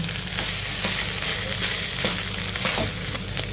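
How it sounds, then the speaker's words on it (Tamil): Potatoes frying with onions in a pan with a little ghee, stirred steadily, give a continuous close sizzle broken by scraping and clinking spoon strokes, with no voices. "இப்போ உருளைக்கிழங்கு சேர்த்துடலாம் உருளைக்கிழங்கு கோட்டை ஆகிற மாதிரி எல்லாத்தையும் கலந்து விட்டுருங்க"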